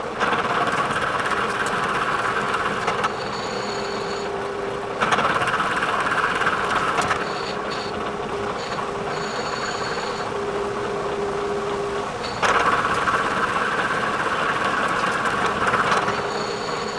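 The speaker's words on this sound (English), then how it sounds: "So I'm going to mill it flat, bring it down to specifications" A Bridgeport milling machine mills a vise stop flat with a steady mechanical drone and whir. The tone rises and eases as the cutting passes change, close and loud, with no voices.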